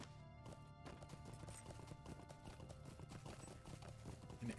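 Horse hooves clip-clop at a steady riding pace in the fantasy video game Lord of the Rings Online, a continuous quiet rhythmic patter with no talk over it.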